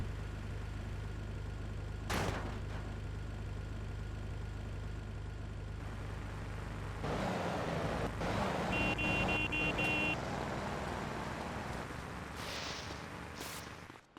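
A car driving around the block in GTA Vice City, a steady engine hum under game background sound that shifts into louder road and traffic noise partway through, with a brief electronic tone near the middle.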